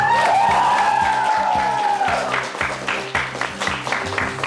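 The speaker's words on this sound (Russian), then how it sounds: "Аплодисменты мозырянам!" A studio audience applauds the Mozyr team at a televised quiz show. A host's voice rings out over the opening, then steady, rhythmic group clapping carries on with a crowd murmur beneath it.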